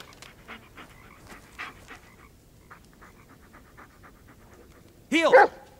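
A dog in the video game Blair Witch pants softly and repeatedly in a quiet scene, then gives a loud, close bark-like whimper near the end.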